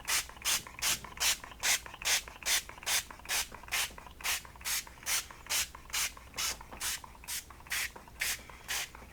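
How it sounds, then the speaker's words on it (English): A handheld spray bottle pumps out about eighteen sharp, evenly spaced hissing bursts, close and loud, in a brisk steady rhythm while a book cover is being coated, with no speech. "And we're going to be very generous with our spray."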